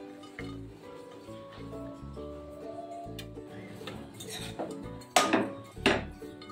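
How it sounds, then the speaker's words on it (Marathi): A spoon scrapes and knocks against a pot while dal and jaggery are stirred together for puran poli, with two sharper metallic clanks near the end over a steady kitchen hum and faint voice. "हे आपण छान ढवळून घेऊया।"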